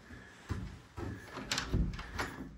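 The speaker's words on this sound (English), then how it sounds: "Let's hope this door is unlocked." A door in a dried-in log home mudroom being opened, with a few close clunks and knocks of the latch and frame followed by shuffling movement.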